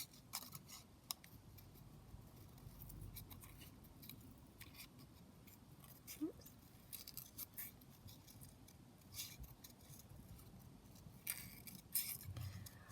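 Scissors snip through paper to cut out a tiny paper flower, producing faint, close, irregular clicks and slices in a quiet room, with a brief muttered word.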